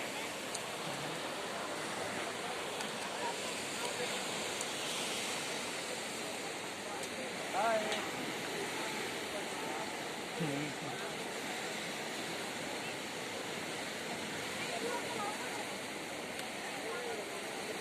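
Broad, steady rush of a flooded river's fast-flowing water fills the whole stretch, loud and continuous with no clear breaks.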